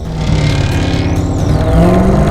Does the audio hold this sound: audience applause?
no